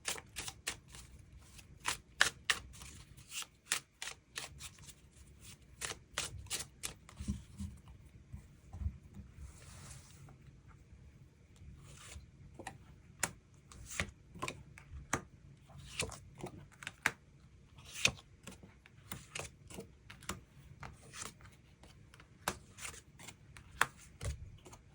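Tarot cards shuffled and drawn by hand, a faint, close run of quick flicking riffles and soft slaps with short pauses between bursts.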